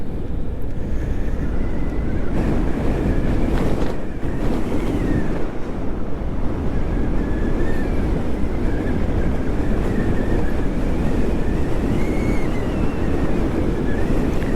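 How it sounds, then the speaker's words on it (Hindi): Strong wind roars steadily across an open snowy mountain road near Narkanda, a dense, buffeting rush that batters the microphone for the whole stretch, loud and unbroken, with no voices. "यहाँ हवा बहुत तगड़ी चल रही है भाई, बहुत तेज हवा है।"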